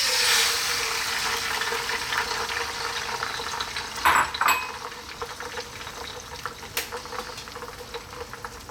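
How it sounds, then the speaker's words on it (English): Beaten eggs poured into a hot pan with olive oil: a steady, hissing sizzle of frying runs throughout, with a few light scraping and clinking knocks from a utensil midway and later. "We're gonna drop in our beaten eggs."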